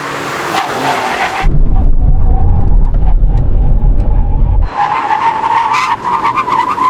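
An Aston Martin brakes hard during a drag race and its tires skid loudly with a sustained squeal and rumble, between bursts of engine noise.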